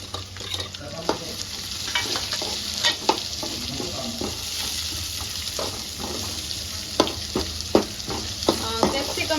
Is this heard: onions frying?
yes